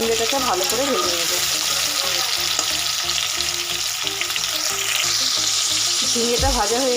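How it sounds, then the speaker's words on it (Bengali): Ridge gourd slices fry in hot oil in a pan, giving a loud, steady sizzle with scraping stirs throughout and a faint tonal hum underneath. "ঝিঙেটাকে ভালো করে ভেজে নেব।"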